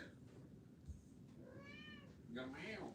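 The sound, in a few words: cat meowing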